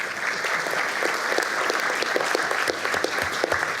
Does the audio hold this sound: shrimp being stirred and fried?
no